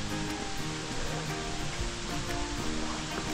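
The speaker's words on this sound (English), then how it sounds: "Well, that's where the water sounds. Like a little waterfall over there." Steady broadband rush of a small waterfall in Dean's Village, Edinburgh, Scotland, heard fairly close and unbroken throughout, with no talking over it.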